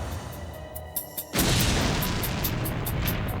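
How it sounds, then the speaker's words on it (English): A powerful package bomb explodes indoors with a sudden heavy boom, followed by a sustained roaring rumble and crackling debris after a few quieter thumps. "The blast was so powerful, it threw Fowler some 15 feet down the hallw"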